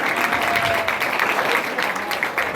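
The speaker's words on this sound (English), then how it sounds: "keep clapping real quick" Steady, dense applause from a crowd at a retirement party fills the space continuously, loud and close, with no talking over it.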